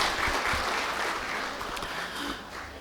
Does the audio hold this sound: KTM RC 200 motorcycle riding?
no